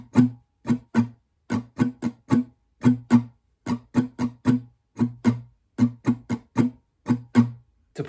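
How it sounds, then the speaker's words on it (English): An acoustic guitar plays a strumming pattern, crisp rhythmic strums in quick pairs and singles with short gaps between groups, close and clear with no voices. "So I'll just show you how pattern 1 would sound like."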